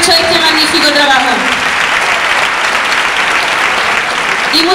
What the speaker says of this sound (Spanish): así que un aplauso para ellos